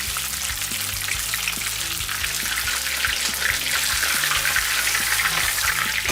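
Beer-battered fish frying in oil in a cast iron pan, a steady dense sizzle with constant crackling bubbles throughout, close and loud with no talking.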